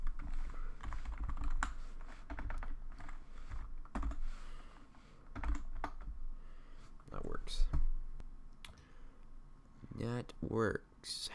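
Someone types on a computer keyboard running in a Linux virtual machine, with bursts of sharp key clicks in uneven runs. A voice talks between and over the typing.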